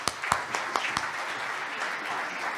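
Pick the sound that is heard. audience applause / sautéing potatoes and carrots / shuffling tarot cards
audience applause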